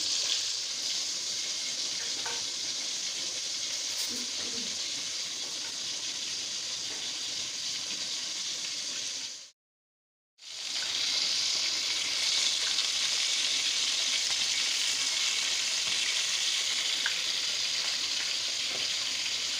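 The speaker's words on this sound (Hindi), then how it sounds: "तो हम इन्हें अंडे और ब्रेड क्रम की कोटिंग करके फ्राई करके आपको दिखाते हैं" Egg-and-breadcrumb-coated pieces fry in moderately hot ghee, giving a steady, soft, hissing sizzle that drops out for a moment before resuming just as evenly.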